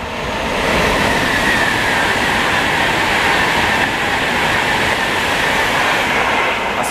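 A Virgin Trains Pendolino in red Virgin livery rushes through Bletchley station without stopping, a loud, sustained roar of wheels and wind close by with no pause.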